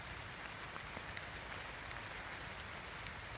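Rain patters through the woods on a wet walk, a faint, constant wash of fine drops with no voices over it.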